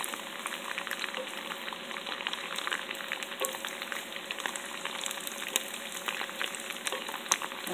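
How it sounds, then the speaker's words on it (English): Garlic and chili fry steadily in hot oil for homemade chili oil, a dense continuous sizzle with light crackles and faint stirring scrapes, close and even throughout, no voices. "Now it's really getting brown now. Just slowly continue mix."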